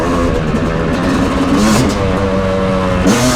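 A Yamaha YZ250 two-stroke dirt bike being broken in at a motorsports park, engine held at high throttle with a loud, raspy, continuous wail that dips and climbs briefly, close by.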